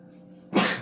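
A single sudden, explosive sneeze bursts out after a moment of quiet, close and loud.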